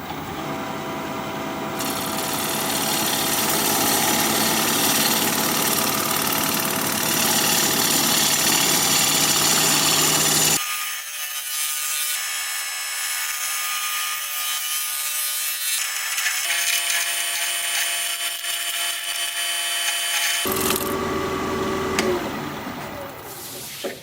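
A wood lathe spins a live edge bowl being turned from a log while a tool cuts the side, giving a continuous loud motor hum with a broadband scraping hiss that drops out midway and returns, with no talking.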